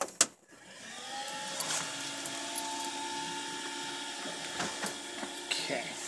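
A 3D printer powering up gives a short clack, then a steady mechanical whir with faint ratcheting clicks that holds at moderate level throughout, heard close with no talking.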